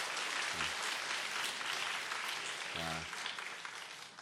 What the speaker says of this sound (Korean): 우리 김상학 집사님 박수로 격려해 주세요